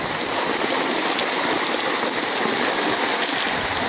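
A garden hose sprays water hard onto a fabric awning over a shop door, producing a loud, continuous hissing splatter that holds steady throughout with no speech.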